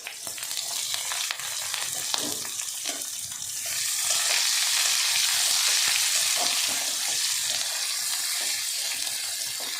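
Garlic and onion frying in a pan: a hissing sizzle that rises and grows steadier and louder partway through, with a few soft stirring knocks, no talking.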